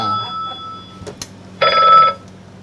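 A voice mimics a telephone ring in a French pastry class, two brief close tones separated by a short gap with small clicks in between, fairly loud and with no other talk.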